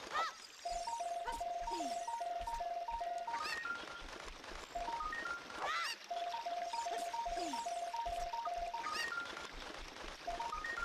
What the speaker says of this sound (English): I don't hate the sound effect for the chickens, at least.